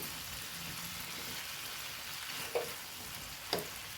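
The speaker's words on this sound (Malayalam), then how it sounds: "ഇതിലേക്ക് നമുക്ക് ലേശം നല്ല നാടൻ കരുവേപ്പിലയും കൂടെ അങ്ങോട്ട് ചേർത്ത് കൊടുക്കാം" Chickpea fry sizzling steadily in a pan as curry leaves go in, a soft continuous hiss with two brief sharper crackles near the end.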